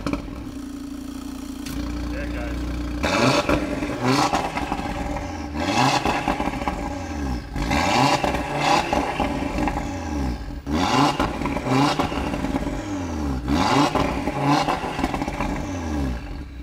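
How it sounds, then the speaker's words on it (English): A stock inline five-cylinder car engine, straight from the factory, idles briefly and then revs repeatedly in loud, close blips that rise and fall, each throttle burst followed by a settle back toward idle. "Just to give your earballs a little taste of what this inline five-cylinder sounds like"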